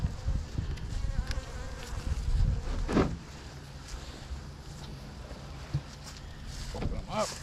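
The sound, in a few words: honeybees buzzing in a package of bees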